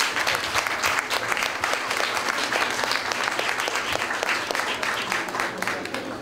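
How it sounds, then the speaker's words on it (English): Warm applause for the host at a business premiere party, a full room clapping steadily and fairly loudly with a faint murmur of crowd beneath. "give her a round of applause"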